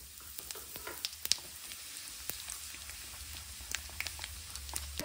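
Cumin seeds sizzle and crackle in hot mustard oil in a kadai, a steady close frying hiss broken by sharp pops and spits throughout, with no talking.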